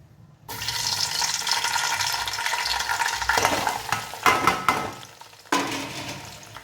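Onions and slit green chilies fry and sizzle steadily in a pan for a village-style country chicken curry, with stirring clatter near the end and no talking.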